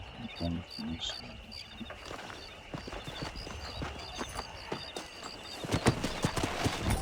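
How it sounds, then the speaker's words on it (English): Horse hooves clip-clopping in the Red Dead Redemption video game, a steady rhythmic gait with an occasional whinny, heard under a voice talking. "I wanted to say earlier I'm gonna name, the horse Panther."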